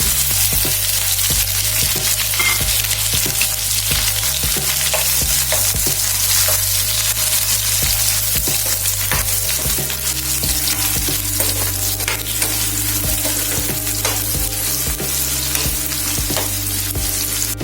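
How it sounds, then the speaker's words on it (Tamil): Onions sautéing in a pan for a tangy sorrel-leaf chutney, a loud, close, continuous sizzle and fry with occasional stirring scrapes and a steady low hum underneath. "வெங்காயத்தையும் இதில் போட்டு நல்லா வதக்கி எடுத்துக்கலாம்"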